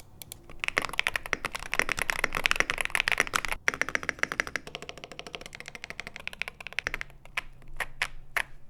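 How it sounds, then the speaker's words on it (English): Someone types fast on a factory-lubed Wooting 60 HE+ Hall effect keyboard, giving a dense, steady run of close, crisp keystrokes with a brief pause and a few isolated clacks at the end. "this is how the keyboard sounds factory lubed out of the box"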